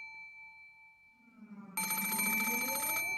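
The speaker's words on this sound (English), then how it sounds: "The sudden ring of the phone made me jump so hard, I thought my heart would explode." Telephone bell ringing at night in the visual novel game Umineko, a loud electronic ring bursting in over a faint tonal hum with a low rising swell, steady and close after a quiet lead-in.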